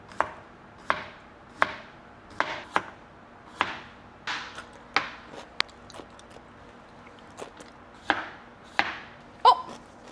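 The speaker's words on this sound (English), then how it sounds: "let's cut the cucumbers real quick" Cucumbers sliced with a knife on a board: a dozen or so crisp, close chopping strokes in an uneven rhythm, with short pauses between them and no talking.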